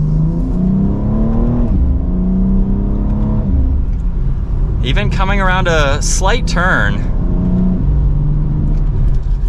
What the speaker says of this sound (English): It has a good exhaust note to it.